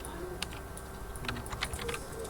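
Quick, uneven clatter of computer keys being typed, a handful of sharp clicks in short bursts over a steady background hum.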